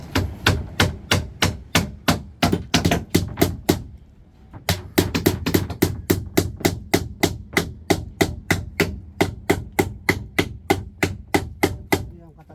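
Steady, rapid hammer blows strike nails, a dense run of sharp metallic knocks with a brief pause partway through, close and loud.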